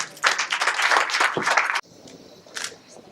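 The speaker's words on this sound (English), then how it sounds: "you better have a big applause for the judges" Audience applause at a school science fair, a dense burst of clapping for about a second and a half that cuts off abruptly, followed by a quieter room with one brief clap-like flurry.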